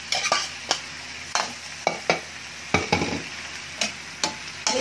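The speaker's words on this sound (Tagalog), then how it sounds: "Ilagay naman natin ang sayote." Chayote and ground beef are stirred in a sizzling pan, with a soft steady frying hiss broken by repeated scraping strokes of a utensil against the metal.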